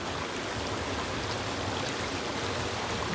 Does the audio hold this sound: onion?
no